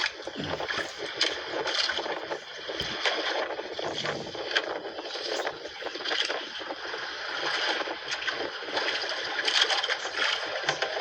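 Strong wind roars steadily into the microphone, with rushing water and faint talking underneath.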